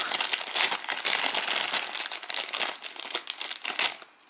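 Continuous crinkling and crackling of a Harry Potter Mystery Minis plastic packet being pulled open up close, with quick tearing bursts and no talking.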